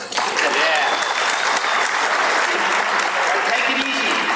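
An audience claps steadily and densely throughout, a loud sustained wash of applause from a large group.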